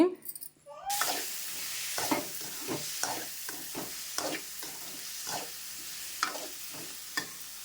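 Chicken fry curry sizzles in a pan while a utensil stirs it in repeated scraping strokes, a steady frying hiss underneath, after a brief quiet start.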